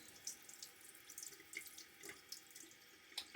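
Faint running tap water during a shave, a steady trickle with small splashes and drips as water is scooped and splashed onto the face, quiet and close.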